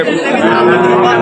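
A cow at a busy cattle market before Qurbani lets out one loud, close, drawn-out moo lasting about a second, with crowd chatter underneath.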